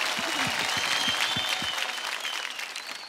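An audience at a Punjabi music event applauds, a dense, steady clatter of clapping that carries on for several seconds before starting to thin, with a voice briefly heard over it.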